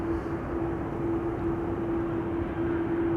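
A Royal Jordanian airliner closes in on approach at Amsterdam Schiphol, a constant distant engine drone with a steady tonal hum running through it, heard alone and without talk.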